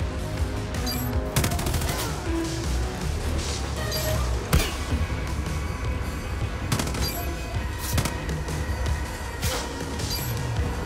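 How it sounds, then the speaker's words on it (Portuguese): Gunfire in the shooter game Far Cry New Dawn: repeated loud shots and machine-gun bursts crack over a dense, noisy battle background, with sharp blasts spaced every second or two. "tô tomando tiro aqui"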